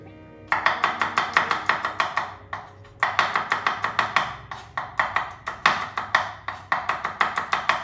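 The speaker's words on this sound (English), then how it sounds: "I'm gonna add sliced garlic because garlic and tomatoes works really well together" A knife slices garlic on a cutting board with quick, even taps in a steady chopping rhythm. The runs come in close bursts with a short pause between them.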